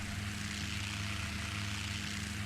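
Continuous droning rotor and engine hum of a helicopter in the X-Plane flight simulator, flown with an RC transmitter, steady and unchanging in loudness, with no voices.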